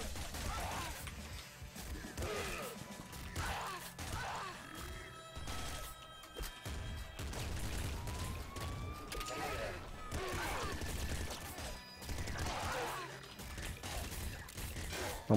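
Rapid automatic gunfire and impact crashes from a machine gun in the top-down shooter Nuclear Throne, busy and continuous with game effects, while someone talks excitedly over it.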